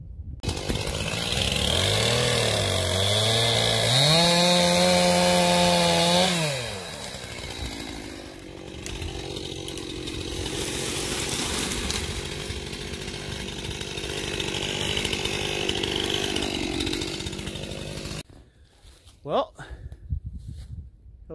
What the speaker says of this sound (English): we're gonna get after the chainsaw again today